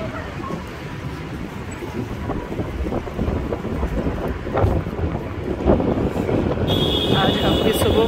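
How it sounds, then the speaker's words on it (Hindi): Strong wind gusting outdoors in Brooklyn, buffeting the microphone with a loud, continuous roar that swells and surges, while a person talks over it. "इतनी तेज हवा है।"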